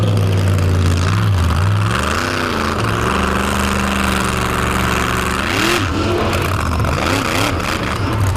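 Jurassic Attack monster truck engine revving hard on slick pavement at a monster truck event, a loud sustained roar with rising and falling pitch sweeps throughout.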